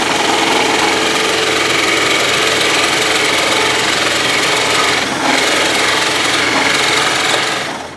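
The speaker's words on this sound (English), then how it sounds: "So we need to drill a hole in this first, and Chris is going to help us with that." Continuous loud grinding, rasping noise of a drill boring a hole into a wooden guitar body, steady and close for several seconds before tapering off.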